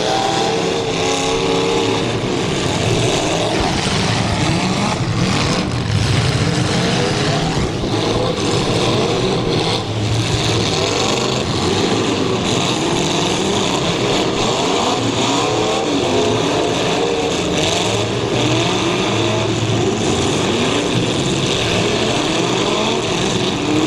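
Several destruction derby car engines rev and roar hard at once, a dense, loud, continuous mechanical howl with surging pitch and no break, late in an extreme destruction derby event.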